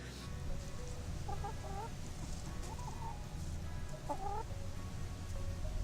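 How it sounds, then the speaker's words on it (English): Chickens in a school courtyard cluck in short, scattered bursts over a steady low outdoor rumble, with a few louder clucks standing out near the end. "So chickens, they're looking for grubs, they're looking for bugs"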